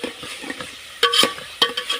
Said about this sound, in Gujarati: ડુંગળી અને ટામેટા વાઢી અને એનો વઘાર કર્યો છે